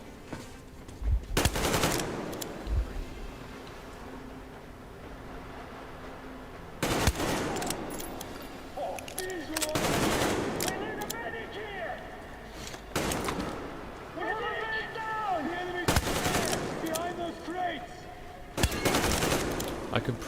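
Bursts of machine gun fire in the video game Metro Exodus, several loud rapid volleys spaced across a tense stretch, with occasional slams and faint game sounds between them.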